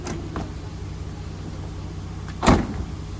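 A Ford Raptor F150 V6 pickup door is shut with a single solid thump near the end, preceded by faint handling noises over a quiet, steady background with no talk.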